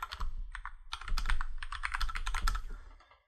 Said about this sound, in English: and then we want to enter the password